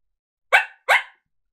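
A voice imitating a coyote bark through a diaphragm call used for coyote hunting, two sharp, close barks in quick succession against silence.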